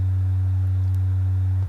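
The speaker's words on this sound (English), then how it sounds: "That's a basic sine wave." A steady, pure synthesizer sine wave tone holds at one low pitch for under two seconds, then cuts off abruptly.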